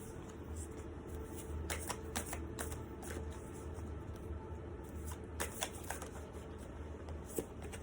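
Quiet, repeated riffling of a card deck being shuffled, soft flutters and snaps recurring in bursts with no talking.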